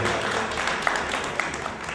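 Audience at a cultural evening in New York claps dense and steady for two seconds, with a few sharper individual claps standing out from the wash of applause.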